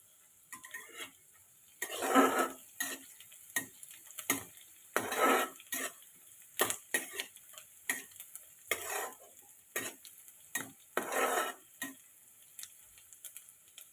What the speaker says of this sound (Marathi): कांदा घात टाकला आहे बारीक चिरलेला कांदा टाकला आहे